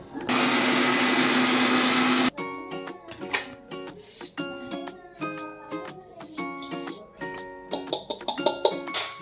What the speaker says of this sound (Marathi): याची क्रीम काढून घेतल्यावर हे सगळं मिक्सर मध्ये बारीक केलं जातं.